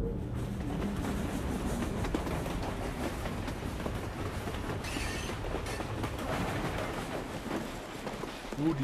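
A moving train in the video game Assassin's Creed Syndicate rumbles steadily throughout, with a dense, noisy rolling sound that stays fairly low in level and has no speech over it.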